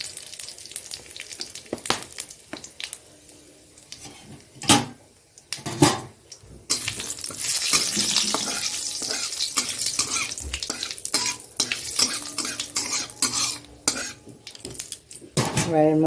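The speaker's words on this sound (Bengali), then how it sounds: "এবার এখানে আমি তেজপাতা শুকনো লঙ্কা দিয়ে দিলাম আর জিরে দিয়ে দিলাম গোটা জিরে" Bay leaves, dried red chilies and whole cumin hit hot oil in a kadai, crackling and sizzling loudly up close, with metal utensil clatter and stirring against the pan throughout.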